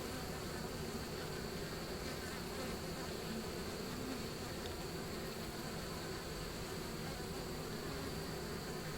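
Dense, steady swarm buzz of honeybees around an open horizontal hive, close and continuous throughout with no voices, a hum filling the whole stretch.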